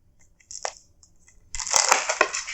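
Crisp crunching of homemade fried veg spring rolls: a short crackle, then a louder, sustained burst of dense brittle crunches up close, with no talking.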